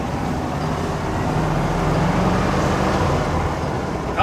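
A 1964 Volkswagen Beetle fitted with new suspension parts drives along, its tires rubbing, with a steady, close road and engine roar that holds unbroken throughout and no talking.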